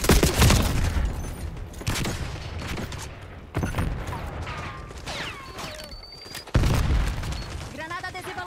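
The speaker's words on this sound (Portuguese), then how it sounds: "Granada adesiva lançada." Heavy explosions and rapid gunfire in a Black Ops 6 multiplayer match, including a sticky grenade blast: three loud booming bursts spaced a few seconds apart, with shooting and short voice calls between them.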